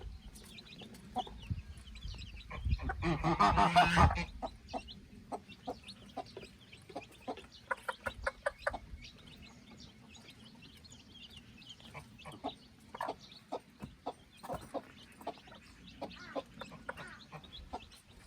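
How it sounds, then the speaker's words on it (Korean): Many chicks peep and cheep in short, scattered chirps, with a brief burst of rustling flutter near the start. "병아리들이 노는 모습이 자꾸 귀여워서 찍게 되네요"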